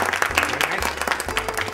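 Students in a classroom clap together in a short, steady burst of applause, close and uninterrupted.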